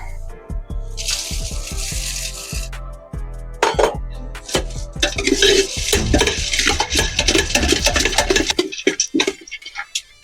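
Pineapple bhel is mixed in a metal bowl with a spoon, giving loud close clinks and scrapes that come in bursts. Stretches of steady rattling stirring run between a few sharp knocks, and no voices are heard.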